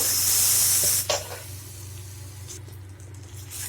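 Raw plantain pieces dropped into hot oil, a loud burst of hissing sizzle at the start that drops to a quieter, steady frying crackle, with a low hum underneath.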